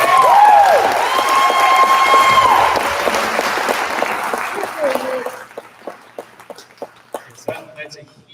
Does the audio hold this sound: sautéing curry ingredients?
no